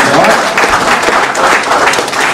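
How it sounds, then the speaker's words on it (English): An awards night audience gives the petition volunteers a loud, hearty ovation, close and crowded clapping that stays thick and steady, with slight swells, for the full length. "I think they all deserve a big round of applause"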